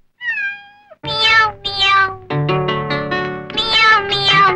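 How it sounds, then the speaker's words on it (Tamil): A kitten meows in a long series of clear, close, loud cries with short gaps between them, the first one thin and high before the fuller calls follow. "மியாவ் மியாவ் பூனைக்குட்டி வீட்டை சுத்தும் பூனைக்குட்டி"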